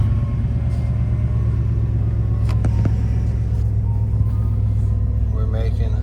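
A 1997 Chevy Tahoe engine idles steadily up close, a constant deep rumble with even loudness throughout. A few brief clicks and knocks sit over it, and a voice speaks faintly near the end.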